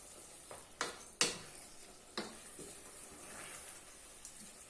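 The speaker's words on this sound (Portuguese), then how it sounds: "Deixar ferver um bocadinho." Empadão filling bubbling in a pot, with a few soft pops and light stirring scrapes over a quiet, faint simmer.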